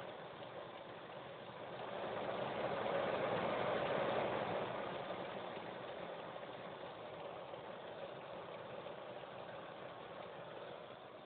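A car engine idles alone in a steady low hum, swelling slightly in loudness for a few seconds before settling back, with no voices.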